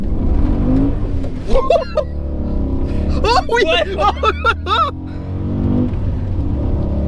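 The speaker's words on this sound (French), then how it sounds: "Le V8, c'est un son quand même." A deep BMW M5 E39 V8 engine rumbles and revs in the background while people talk and exclaim excitedly over it.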